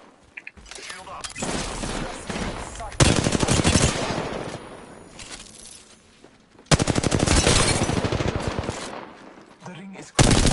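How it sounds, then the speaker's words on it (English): Rapid automatic gunfire in a squad battle-royale shooter game, loud sustained bursts near the start, middle and end with short pauses between, talk faintly underneath. "I'm taking the shot."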